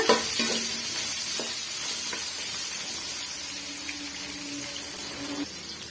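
Onion, garlic and ginger sauté in a pan with a steady, moderate sizzle and occasional soft stirring scrapes throughout, close by and unaccompanied by voices.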